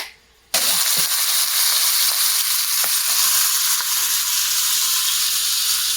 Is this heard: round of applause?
no